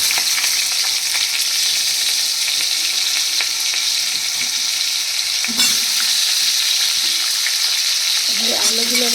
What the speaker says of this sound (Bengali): এবার এর মধ্যে দিয়ে দিচ্ছি আমি আলুগুলো।